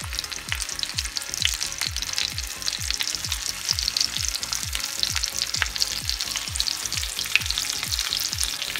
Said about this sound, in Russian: вот жарим теперь рыбку